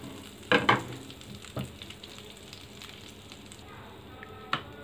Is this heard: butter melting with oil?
yes